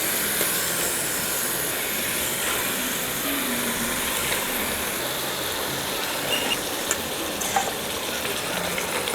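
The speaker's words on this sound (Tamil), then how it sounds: "இந்த கழுவி எடுத்த சிக்கனை வந்து இதில் சேர்த்துக்கலாம்." Chicken that has been washed goes into a pan of frying ginger, garlic, onion and tomato, giving a steady loud sizzle with faint stirring clinks that holds level from start to end.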